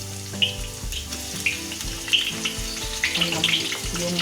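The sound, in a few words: frying shallots and garlic in oil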